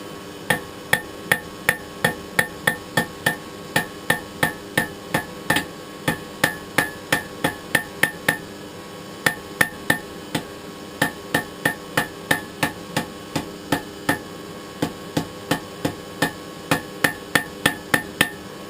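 Steady, ringing hammer blows forge-weld a poker spur on an anvil, close and loud. The regular strikes come about two per second and continue for the whole stretch with no talking.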